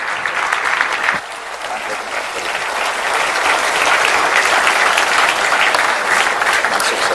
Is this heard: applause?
yes